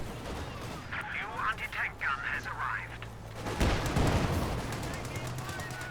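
A Soviet mortar fires in a World War II strategy game on a Eindhoven map, a sharp report followed by a rumbling boom, heard beneath a commentator's voice.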